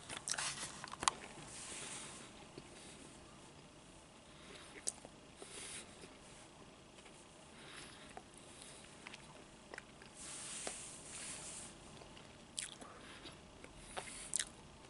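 Crunchy Christmas cookies are bitten and chewed very close to the microphone, with quiet crisp crunches and soft chewing spread unevenly over a faint background.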